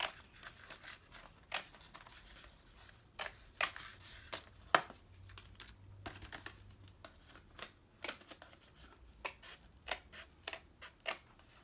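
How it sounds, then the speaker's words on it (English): Scissors cut around a paper plate in repeated close snips and crisp paper crackles, uneven in rhythm and fairly quiet, with no voice. "you just go around and around until your circle is cut out"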